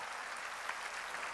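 A church congregation applauds steadily, a dense, even wash of many hands clapping at moderate distance, with no pauses and no one speaking over it.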